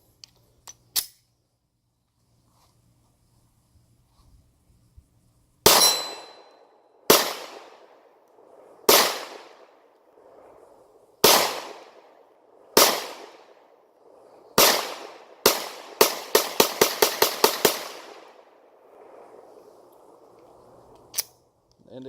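Ruger 9mm pistol firing Winchester 115 grain rounds, about a dozen sharp, loud shots: several spaced single reports, then a rapid string of quick shots, each with a short ringing tail.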